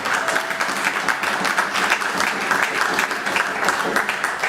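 A concert audience at a small venue claps in a steady, moderately loud round of applause with irregular individual claps standing out, sustained without a break.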